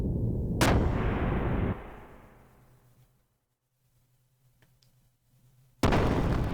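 A ship's gunner firing artillery in the role-playing game Xenogears: one loud booming shot with a long decaying rumble, a near-silent pause, then another heavy blast at the end.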